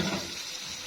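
Tomatoes cooked down in a frying pan hiss sharply as a little vinegar hits them, giving a brief, loud, close burst of sizzling steam.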